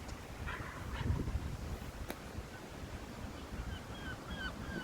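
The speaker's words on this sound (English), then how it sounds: "You can hear seagulls in the sky." Seagulls cry in short, faint, high calls overhead in a Newtown, Wales park, scattered late in the stretch over steady wind and outdoor rumble.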